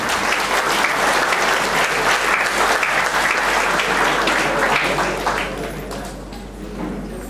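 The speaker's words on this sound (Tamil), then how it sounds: "நிறைய கைத்தட்டல் கொடுக்கலாம், நிறைய கைத்தட்டலாம்." Sustained, dense applause from a large audience at an academic excellence awards event, loud and steady before tapering off slightly toward the end.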